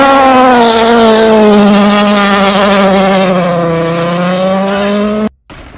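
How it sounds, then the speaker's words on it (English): A powerful car drift produces a loud, sustained engine note with a tire squeal that holds for about five seconds before cutting off abruptly. "It feels so good to watch such a powerful drift."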